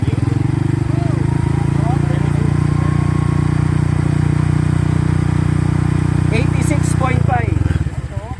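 A motorcycle fitted with an aftermarket muffler holds a loud, steady rev at about quarter throttle, close to the microphone, before the engine note drops away near the end while people talk in the background.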